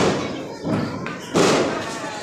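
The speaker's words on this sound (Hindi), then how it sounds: "गाइस अब पापा बजा रहे हैं समोसा पटाखा" A samosa-style firecracker bursting outdoors during Diwali celebrations, heard as a few loud, broadband thuds and bangs, the strongest near the end, over steady crackling ambience with voices in the background.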